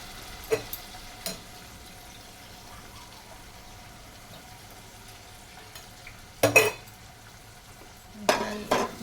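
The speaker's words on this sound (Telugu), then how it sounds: "కూర మొత్తం ఇట్లా కలియబెట్టుకోవాలి." A spoon scrapes and stirs through a moong dal curry in a pan, with a few short clattering bursts over a low steady background hiss.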